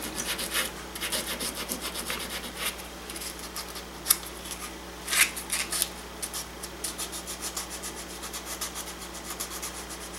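Sandpaper scrubbed back and forth on metal parts by a gunsmith cleaning them before soldering tenons, a close, rapid, steady rasping with a few louder strokes and no talk.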